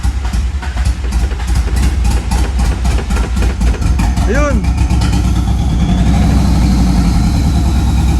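A Nissan S14 with an SR20DET engine runs loud and close at a rough, pulsing idle after starting, with a steady mechanical drone and brief voices over it.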